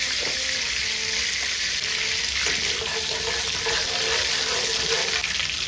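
Whole spices sizzling in hot oil for beef biryani, among them black and green cardamom, cloves, bay leaf, cinnamon and star anise: a loud, constant frying hiss, close and dense, with no voices.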